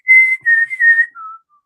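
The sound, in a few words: whistling imitation of a TV theme tune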